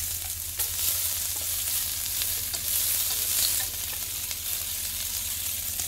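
Garlic, shallot and onion fry in hot oil for a Vietnamese fish and tomato sauce dish, making a steady close sizzle with light stirring scrapes and no talk.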